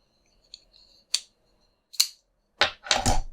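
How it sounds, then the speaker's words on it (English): A Damned Designs Fenrir folding pocket knife is flipped open and shut, giving a series of sharp, close metallic clicks and snaps spaced apart, with the final two louder and more forceful. "So let's give it a flip."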